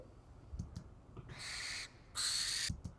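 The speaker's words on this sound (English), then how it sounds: "Oh, maybe an owl." An owl hooting, recorded for use in music-making: two sustained hoots, the second longer and louder, stand alone against a quiet background with a few faint clicks.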